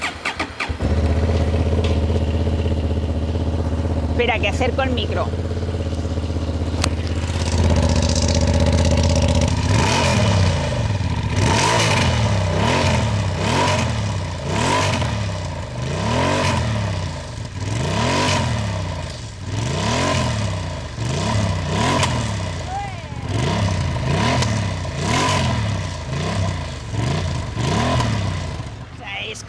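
Honda CB750 Hornet motorcycle with a two-chamber exhaust starts up close by, then revs in a steady series of loud rising and falling throttle blips. A brief spoken remark comes just before the engine catches.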